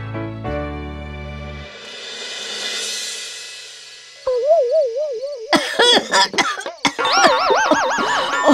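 A cartoon character coughs repeatedly from mosquito coil smoke in a bedroom, a burst of loud, wobbling, exaggerated coughs and splutters after a stretch of quiet music, close and dominant.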